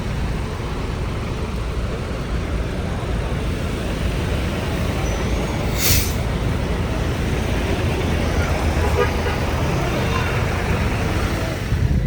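Steady, loud roar of a bus idling amid Jakarta street traffic at Pondok Pinang before a trip to Wonogiri, with one brief sharp hiss like an air-brake release partway through and a faint murmur of voices underneath.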